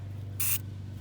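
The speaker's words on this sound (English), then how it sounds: "let me just go ahead and spray it once again" A short, loud hiss of aerosol penetrant sprayed onto rusted rear sway bar link bolts on a 2008 Infiniti G35x, one brief burst over a low steady hum.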